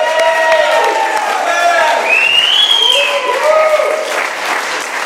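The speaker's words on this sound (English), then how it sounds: "Let's give Robbie another round of applause." An audience at an Alcoholics Anonymous speaker meeting in Doylestown, Pennsylvania, applauds steadily for several seconds, with bright whoops and cheering voices rising above the clapping.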